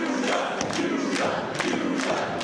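Crowd at a DPW Carolina Classic 2022 pro wrestling show cheering and shouting steadily throughout, a dense roar with rising bursts of yelling.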